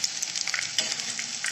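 Dahi kebab patties fry steadily in a pan, giving a continuous close sizzle with bright crackling and small popping bursts throughout, with no voices.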